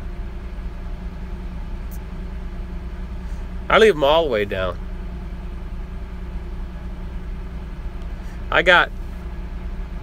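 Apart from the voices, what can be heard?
truck engine idling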